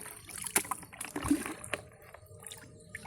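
Water scooped from a village pond for watering garden plants, a few soft splashes and gurgling pours close by, with faint dribbling between them.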